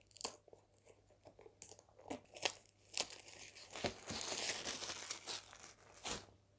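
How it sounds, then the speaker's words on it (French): Plastic film is peeled and torn off a 4K Blu-ray steelbook of The Suicide Squad (2021): close, dry crinkling and crunching in uneven bursts that swell into a steady rustle near the end, with no talking. "Bon, on va déballer,"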